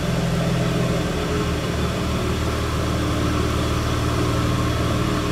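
A Plymouth Prowler engine runs steadily close by, a continuous low rumble held at raised revs for several seconds, with no talk over it.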